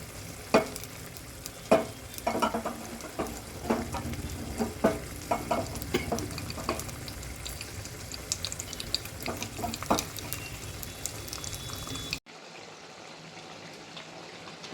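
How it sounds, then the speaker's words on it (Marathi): Ghee tempering with green chili sizzles and crackles in a pan, with irregular sharp pops and stirring scrapes over a constant frying hiss, followed by a quieter steady hiss at the end. "हा जो तडका आहे ना तुपाचा"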